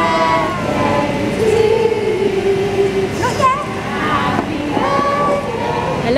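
A Thomas toy train ride's whistle sounds in sustained tones over a steady rumble, with voices and crowd noise around it at a party.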